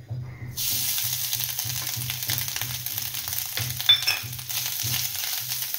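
Grated fresh coconut frying with poppy seeds in a pan, a steady close sizzle with faint stirring underneath and a low rhythmic hum pulsing throughout, no voices.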